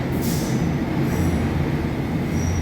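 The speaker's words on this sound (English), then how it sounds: "This is an all-stations Metropolitan Line train to Uxbridge." A London Underground Metropolitan Line train runs loud and close, with a steady rumbling roar, a squeal of wheels near the start and a faint high tone later.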